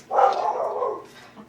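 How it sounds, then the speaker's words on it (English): Pet dogs indoors let out a short burst of loud, close barking that runs together for about a second and then fades into a softer yip. "Sorry about my dogs."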